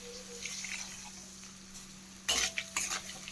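Onions for dry chili chicken frying in a pan, a low background sizzle with a steady hum, then two brief bursts of stirring and utensil clatter.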